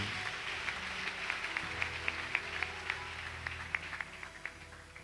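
A congregation applauds during a French-language church service, with scattered rhythmic claps at moderate distance over a steady hum of room and music.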